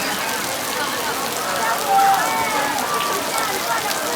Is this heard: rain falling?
yes